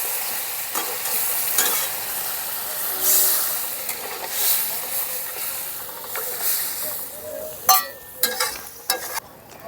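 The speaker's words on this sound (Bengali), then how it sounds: "অল্প অল্প করে জল দিয়ে মিশিয়ে নেব।" Semolina being stirred in a pan for sooji halwa as water is added bit by bit, giving a steady hiss and sizzle with scraping strokes that grow into louder bursts of bubbling toward the end.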